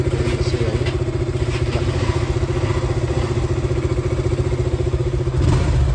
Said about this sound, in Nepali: बाइक स्टार्ट भइसक्यो